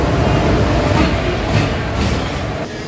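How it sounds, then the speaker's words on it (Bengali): A passenger train pulls in at Guwahati railway station, a loud, steady rumble of rolling carriages and wheel noise that fills the whole clip and eases slightly near the end. "And our train has arrived"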